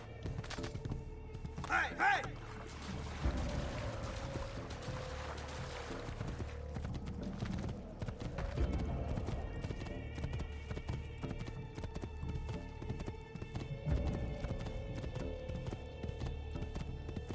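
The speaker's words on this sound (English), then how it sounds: "Horsey!" A horse gallops in Assassin's Creed II, its rapid rhythmic clip-clop of hooves running steadily over ambient game sound, with a man briefly calling out over it.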